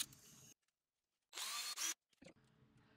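A power drill drilling holes in metal whirs in short bursts with a high grinding whine, separated by silent gaps, close by.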